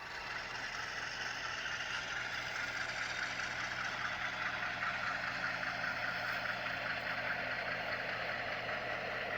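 HO scale model diesel locomotives, F-units and U-boats, give off a steady, unbroken engine drone on a model railroad layout. The rumble is moderately quiet and holds an even level throughout.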